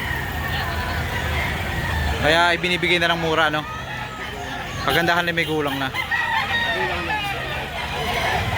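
Chickens at a market cluck and crow in loud, drawn-out bursts close by while someone talks over the busy background.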